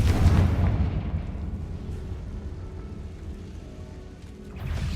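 A Confringo fire spell blast in Hogwarts Legacy hits with a loud, close burst at the start, then fades into a rolling rumble, with a second swell of noise near the end and no voices.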